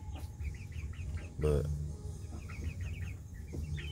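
Chickens in a coop of fourteen birds drinking and eating, with repeated short clucks and chirps scattered throughout over a steady low hum, a louder rustling burst midway, and brief speech.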